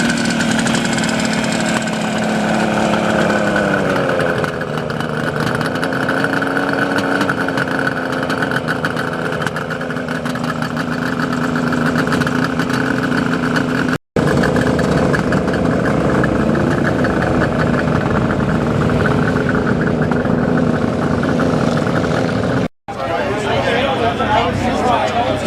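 Honda two-stroke motorcycle idling outdoors at a riders' gathering in Bogotá, a steady, buzzing engine drone running throughout with slight pitch shifts, close and loud, with talk in the background.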